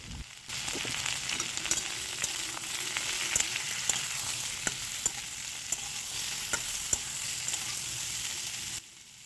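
Potatoes and pointed gourd fry in a pan, with a steady close sizzle and occasional sharp spatula taps and scrapes as they are stirred; no voices.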